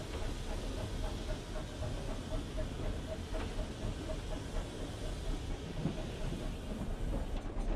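A steam locomotive hauls unfitted freight trucks slowly along a branch line, with a steady rumbling rail noise, faint rhythmic clicks and a hiss close up on the footplate.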